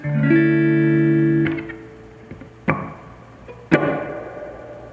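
A sustained electric guitar chord rings and decays through a spring reverb, followed by a few sharp struck hits that splash and trail off in a springy, metallic reverb.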